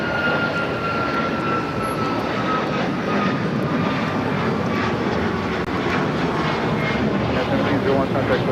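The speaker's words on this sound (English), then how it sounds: "This is United Airlines 1701 taking off to Baltimore on the MAX 9." A United Airlines Boeing 737 MAX 9 takes off at LAX with a sustained, loud engine roar and a steady tonal whine. The noise stays strong from start to finish.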